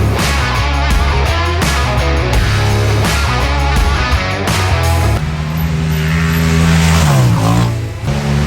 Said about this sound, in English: Fixing to go zoom around the track.